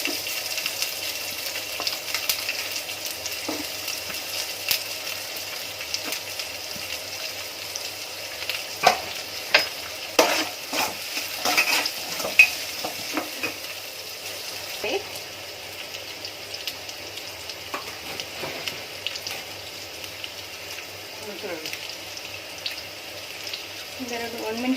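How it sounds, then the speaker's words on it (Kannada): Chopped onions fry and crackle in a pan, with a steady soft sizzle and occasional stirring scrapes, close and fairly quiet throughout. "ಸ್ವಲ್ಪ ಬ್ರೌನ್ ಕಲರ್ ಬರೋ ತನಕ ಫ್ರೈ ಮಾಡ್ಕೊಳ್ಳೋಣ."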